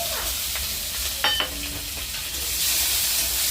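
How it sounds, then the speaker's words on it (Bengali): Onions frying in hot oil: a steady, close sizzle runs throughout, with a brief metallic utensil clink partway through. "দেখো পেঁয়াজ ভাজা করছি"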